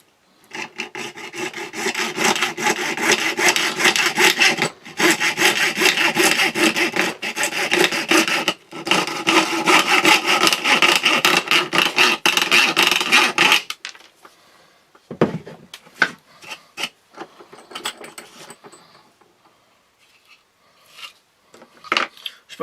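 A coping saw cuts through a Kydex sheath held in a vise, giving a steady, loud rasping stroke rhythm for about thirteen seconds with brief pauses, then stopping into quieter scattered handling clicks and knocks.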